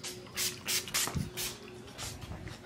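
Handheld spray bottle misting in quick successive pumps, each a short airy hiss, about seven bursts in under three seconds at close range with a faint low hum beneath.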